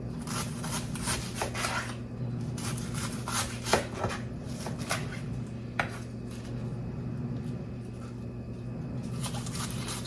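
A knife slicing cabbage thinly on a cutting board, steady rhythmic chopping taps close up, with a few sharper knocks as the blade hits the board, no talking.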